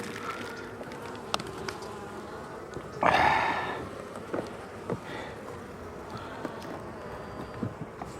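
Honey bees buzz around an open hive during a warm-day winter check, a steady low drone with one louder bee passing close midway, outdoors with no talk.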